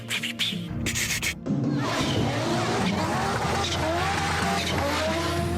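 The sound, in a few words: Audi quattro 5-cylinder engine, wastegates fluttering off throttle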